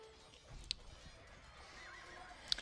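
Cavalry horses neigh twice in an Age of Empires II battle, a short whinny early and another near the end, over a steady low bed of game battle noise.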